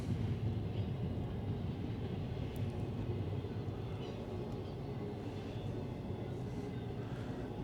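Long freight train hauled by five locomotives pulling stacked shipping containers, a low steady rumble at moderate distance that holds evenly throughout, with no talk over it.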